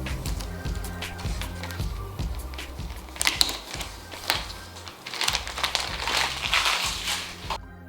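Protective plastic film being peeled off a new Alienware Aurora R10 Ryzen Edition desktop PC: a continuous crinkling and crackling with soft handling taps, growing into louder, denser rustling bursts toward the end.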